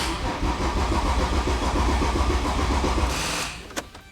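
A BMW-converted Nissan Patrol engine cranks and runs on a jump box, a loud rumbling churn held for about three seconds before it cuts out, followed by a brief click and then quiet.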